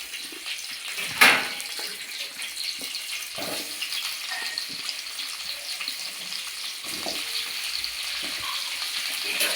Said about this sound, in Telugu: ఇప్పుడు ముందుగా కడాయి పెట్టుకొని ఆనియన్స్ వేయించుకోవాలండి కొంచెం ఆయిల్ వేసుకొని